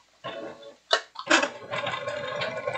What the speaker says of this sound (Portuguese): eu vou dar uma costurada para vocês verem